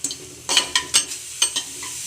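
Cumin seeds and two cardamom pods frying for jeera rice are stirred in a pan, with a quick run of close, sharp scraping clicks over bright, steady sizzling.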